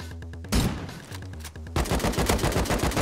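Gunfire in Rust, a rapid burst of automatic shots followed by louder, sustained firing close by, with rhythmic repeated reports under faint game ambience.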